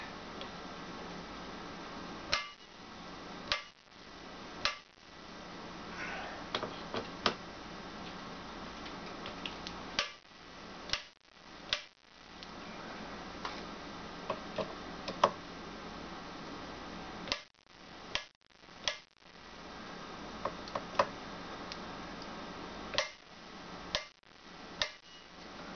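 A torque wrench tightens the screws on scope rings for a 6.5 Creedmoor rifle, with repeated sharp close clicks spread irregularly through the clip, some single and some in quick pairs, over quiet background.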